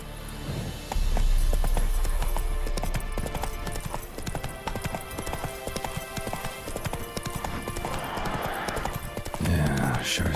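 Galloping horse hooves in The Witcher 3, a steady rapid clip-clop running throughout at close range, with ambient game sound and a brief whinny-like burst near the end.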